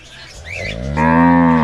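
A cow with a three-month-old calf lets out a single loud, close moo, rising into a sustained bellow that fills the last second.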